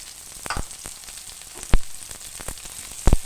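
Garlic and ginger sizzle in hot oil in a pan for cow-skin balbacua, a steady bright crackle broken by several sharp scraping knocks of a spoon stirring, close and with no talk.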